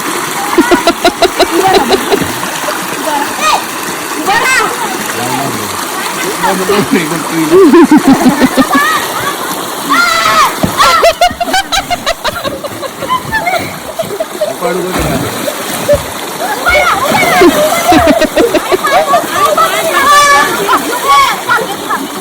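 Swollen stream water near a forest monastery in Dongarpal village in the Konkan, heard as loud, irregular splashing and sloshing close by, running the whole time under frequent talking voices.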